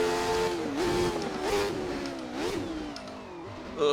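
A 1991 Jordan Formula 1 car engine in a racing video game screams loud and close, its pitch climbing and dropping through repeated gear shifts and throttle lifts as the car brakes and accelerates.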